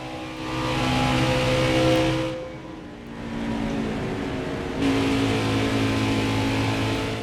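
A NASCAR Cup race car in the NASCAR Heat 4 video game laps Pocono, its engine droning loud and steady, easing off briefly before climbing back to a sustained high whine, with no talking.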